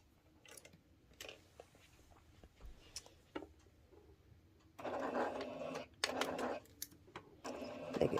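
A sewing machine stitches quilt pieces in short bursts of rapid mechanical whirring, separated by quieter handling sounds, close and fairly soft.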